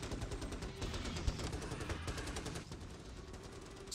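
Automated turrets firing at swarming bugs in Starship Troopers: Terran Command, a steady rapid rattle of overlapping shots at moderate distance, easing slightly toward the end.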